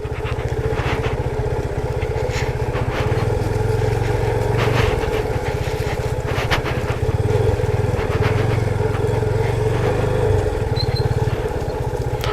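A motorcycle rides a trail through Shivapuri National Park, its engine droning steadily and loud throughout with slight rises and dips in throttle, no voices.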